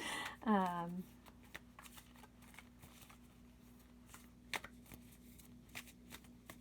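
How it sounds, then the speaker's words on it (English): Tarot reading cards are shuffled and pulled, a brief riffle near the start followed by light, sparse card handling and taps under soft voices. "I'm going to pull a couple more cards."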